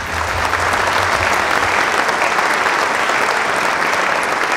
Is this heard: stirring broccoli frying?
no